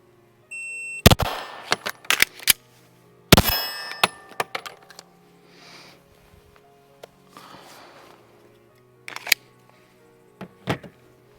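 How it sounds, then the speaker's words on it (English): Two loud, sharp handgun shots from a hammer-fired or striker-fired pistol on a range, separated by a slide-lock reload with metallic clicks and clacks of the magazine change, followed by smaller handling clanks and a faint beep. "reload from slide lock, and come off my belt, reload, drop, and fire a second shot"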